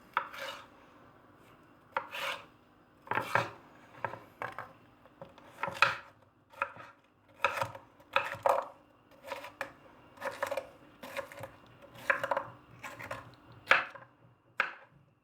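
A knife chops bell peppers on a cutting board in quick bursts of crisp taps, irregular rhythm with short pauses, close and clear, no talking.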